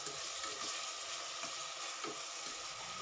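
Chopped tomato hits a hot frying pan with a loud, continuous sizzle and hiss, a few soft stirring scrapes rising out of the dense spitting.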